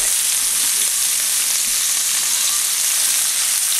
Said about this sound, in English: Now turn your heat down to about medium and add your onions and your garlic.